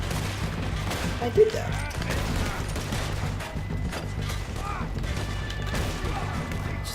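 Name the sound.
gunfire in the video game Red Dead Redemption 2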